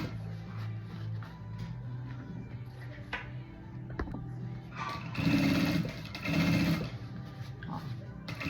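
Sewing machine stitching the lining closed on the main section of a handmade suitcase, with a low steady hum. It runs in two louder bursts near the end, with quiet background sounds between them.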